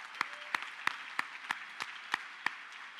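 An audience at a high school honors convocation applauds school staff with a steady wash of clapping, and a few sharper single claps stand out near the microphone at an even pace.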